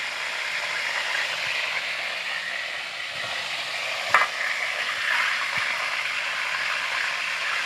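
Sago palm weevil larvae frying in oil for a second round, a steady broad sizzle and bubbling crackle running throughout, with a brief sharp clink of a utensil partway through.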